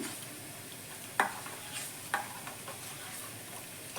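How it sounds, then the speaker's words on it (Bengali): Milk stirred to dissolve in hot water while cooking papaya phirni, a quiet sizzle beneath two sharp spoon clinks on the pot rim, otherwise low and steady. "আমি দুধটা ঢেলে দিচ্ছি গুলে দিলাম"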